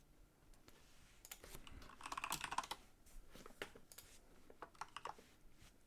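Rapid computer keyboard typing, close and crisp, with irregular bursts of keystrokes that cluster densely in the middle and thin out toward the end; no voices.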